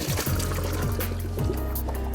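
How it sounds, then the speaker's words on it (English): Guinness-poached shrimp and their cooking liquid are poured into a colander in a kitchen sink, making a close, steady splashing gush with no voices. "we're just gonna pour this into the colander in the sink"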